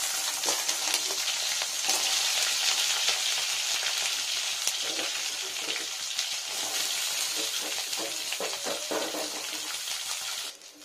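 Eggplant pieces frying in hot oil, giving a loud, steady sizzle with scattered crackles and pops that runs unbroken for the whole stretch, with no talking.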